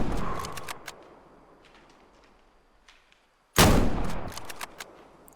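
Two bursts of hunting rifle fire in the Way of the Hunter game, set in Matariki Park: a sharp loud shot with a ringing tail near the start, then a louder, closer crack after a brief near-silence, each fading slowly.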